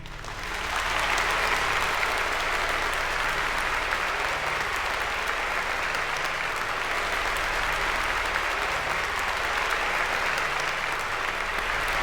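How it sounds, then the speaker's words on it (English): Sustained applause and clapping from a crowd in the paranormal adventure game Virginia, a dense, even wash of many hands that swells in after a brief quiet start and holds steady at full strength. "First person clapping."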